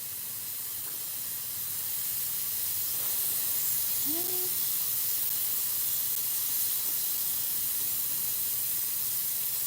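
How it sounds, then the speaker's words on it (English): A handheld steamer gives off a steady, loud hiss for several seconds while pieces of a fascinator hat are steamed together, and there is a faint short squeak partway through. "I'm just going to steam this together."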